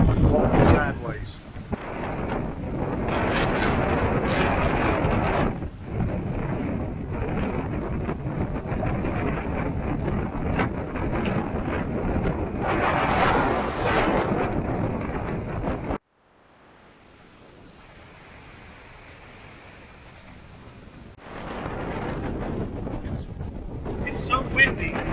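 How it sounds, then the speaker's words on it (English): Heavy wind after rain buffets the microphone beside a hotel in loud roaring gusts, drops to a quiet lull for several seconds, then roars back. "the rain has stopped, but the wind is still strong"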